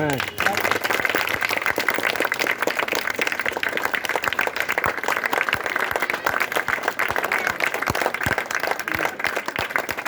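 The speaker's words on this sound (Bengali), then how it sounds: "একটু হাততালি দিবেন সবাই" Sustained applause from an audience at an award ceremony, dense clapping at steady loudness for the whole stretch, with scattered voices in the crowd.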